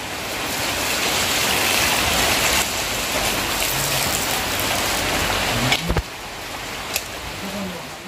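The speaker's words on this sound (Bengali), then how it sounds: "এগুলো বৃষ্টি থেকে প্রতিদিন একটু একটু করে টুপটুপ টুপটুপ করে পড়তে পড়তে" Rainwater collecting in a pot indoors, heard as a steady wash of rain noise with faint drips, broken by a few sharp knocks near the end.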